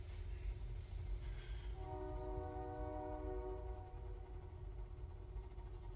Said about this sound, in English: The train's literally a block away.